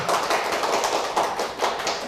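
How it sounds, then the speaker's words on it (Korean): Lecture-hall audience clapping, a loud, dense, continuous patter of many hands close by, steady throughout with slight swells and no talking. "박수 한번 쳐주시고"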